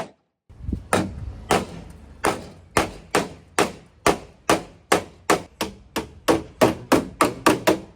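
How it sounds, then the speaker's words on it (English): A panel hammer strikes aluminium again and again in a steady rhythm, sharp close taps that speed up slightly, about sixteen blows with short ringing decays. "I've got my panel hammer, which we've used before"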